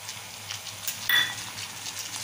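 Chopped tomato going into onions frying in oil, giving a soft steady sizzle with a brighter crackle as the pieces land about midway, then settling back to a gentle hiss.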